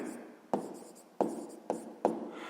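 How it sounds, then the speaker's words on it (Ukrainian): Pen or pencil writing down a math answer on paper, four short scratchy strokes in a quick uneven rhythm, close and quiet with no voice. "Ну що ж, записуємо відповідь."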